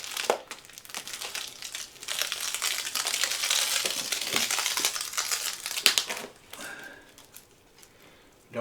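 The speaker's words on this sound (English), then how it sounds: "we're going to use this little cutter thing here to cut this plastic off" A small cutter slices and tears the plastic wrapping off a bed mattress, with close crinkling, crackling and ripping of plastic that builds into a dense stretch before fading to quieter rustles.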